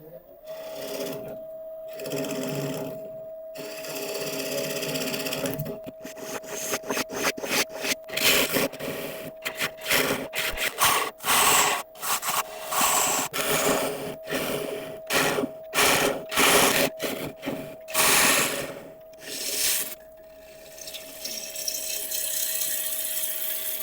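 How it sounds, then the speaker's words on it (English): Wood hollowed out on a lathe, turning with a steady whine, broken by rapid bursts of cutting chatter as the tool bites in and out of the spinning workpiece. "we can start hollowing out the rest of it now"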